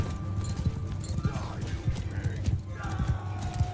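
Horses gallop in the medieval battle game Mount & Blade II: Bannerlord, a quick rhythmic clip-clop of hooves running steadily under faint battle ambience and music.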